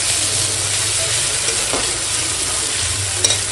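Bay leaf and tempering spices fry in hot oil beside boiled taro, a loud continuous hiss of sizzling with faint stirring scrapes and a brief clink near the end.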